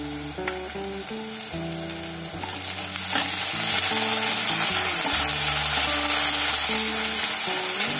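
Onion with ginger-garlic paste, crushed garlic, chili and coriander fries in hot oil, giving a loud, dense, continuous sizzle that grows stronger partway through, with stirring under it and a tonal hum in the background. Nobody speaks.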